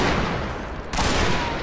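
Musket volley fire during a multiplayer line-battle game: a dense, loud crackle of overlapping gunshots rolling continuously, with a sharp fresh burst of shots near the end.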